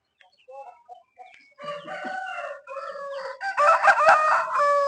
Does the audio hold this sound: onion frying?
no